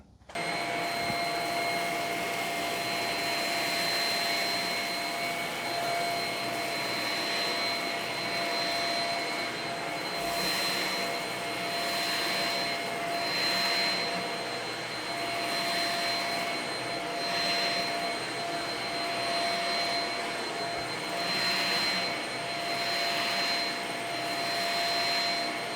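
A Shark Rocket HV301 upright vacuum runs steadily on carpet with a loud, continuous whine and airy roar that surges slightly as it is pushed back and forth.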